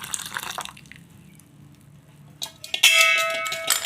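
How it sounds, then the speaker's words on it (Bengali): Milk made from powdered milk dissolved in warm water is poured into a semolina cake batter. Soft clinks and faint movement give way near the end to a sudden close, splashy pour with a ringing liquid tone. "সেই দুধটা এর মধ্যে ঢেলে দেবো।"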